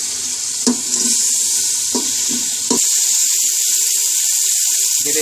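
Masala of red chilies, salt and turmeric frying in ghee with a little water, giving a close, steady sizzling hiss with a few sharp pops and clatters early on before settling into continuous frying.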